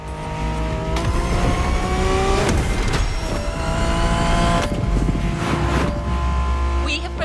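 BMW Z4 M40i convertible in the racing game The Crew Motorfest, its engine roaring and revving steadily with rising and falling pitch as it shifts gears, loud and close throughout.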